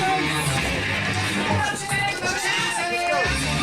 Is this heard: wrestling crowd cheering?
yes